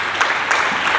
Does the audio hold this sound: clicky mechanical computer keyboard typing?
no